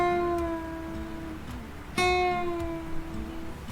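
A guitar note on the second (B) string rings clearly, bent up and then slowly released downward while still sustaining, with a fresh pluck midway, played alone without talk.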